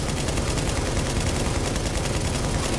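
Dense, continuous gunfire from the video game The Division, a loud sustained rattle of rapid shots filling the whole stretch without pause.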